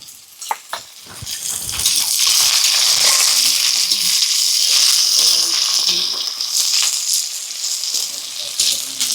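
Chopped onions frying in hot oil give a loud, steady hiss and sizzle that swells after a few opening clicks and holds throughout, with occasional stirring scrapes and faint talk underneath.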